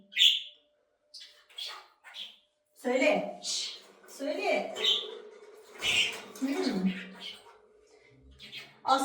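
A small bird gives short, high chirps and squawks nearby, scattered between stretches of a person talking.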